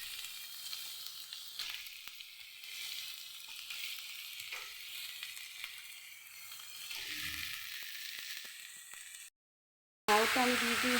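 Bottle gourd hits hot oil in a pan of lightly fried potato for a gourd-and-poppy-seed dish, giving a steady close sizzle with soft stirring scrapes. The sizzle breaks off briefly near the end, then a voice starts.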